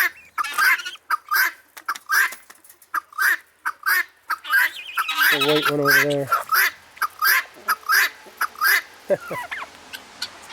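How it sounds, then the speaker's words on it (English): A guinea hen calls in loud, rapid, harsh repeated cries at a steady rhythm, with a brief voice speaking partway through. "That's a guinea hen making all that noise."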